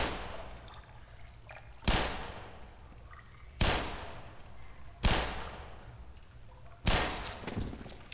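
Four loud, sharp gunshots from the Black Mesa video game, evenly spaced about every one and a half seconds, each with a decaying echo.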